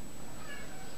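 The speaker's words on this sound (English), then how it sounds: "that's the cat" A house cat meows once, close by and fairly faint, over a steady background hum.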